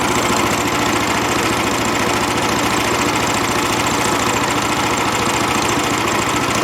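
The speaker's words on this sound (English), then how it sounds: "it took a few RPM increases to get it to where the clutch would engage and then start rolling the drum" Engine-driven drum machine (DC 1260) running steadily after a belt change, its clutch engaged and turning the drum; a loud, continuous mechanical engine drone with constant vibration throughout, no voices.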